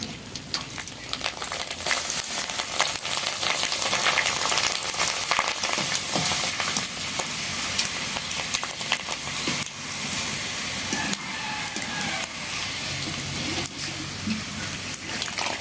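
Piyaji, onion fritters made from a home recipe, fry in hot oil with a continuous loud sizzle and crackle, steady throughout with small bubbling bursts and faint kitchen clatter.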